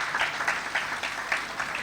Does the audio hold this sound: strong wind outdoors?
no